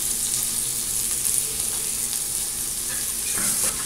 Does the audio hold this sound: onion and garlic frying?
yes